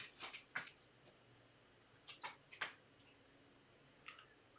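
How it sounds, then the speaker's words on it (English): A dog whimpers for breakfast in a quiet room, several short faint whines and thin squeaks coming in small clusters with pauses between them and no talking. "I have a dog who wants his breakfast"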